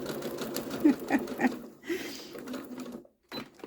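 Rapid close-up chatter of a sewing machine stitching a two-slot fabric gift card holder, in short bursts that stop and start, then fall silent near the end before a brief resumption.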